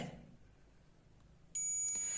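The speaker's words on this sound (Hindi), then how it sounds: "देखिए ये कैपेसिटर बीप की आवाज दे रहा है" A multimeter in continuity mode beeps while its probes test a capacitor on a display panel board during VGL voltage fault tracing; a loud steady electronic tone starts abruptly after a quiet stretch and holds to the end.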